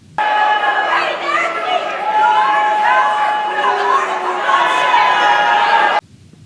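A large crowd heckles Nancy Pelosi with a continuous roar of overlapping shouts, jeers and chatter, loud and sustained before cutting off abruptly.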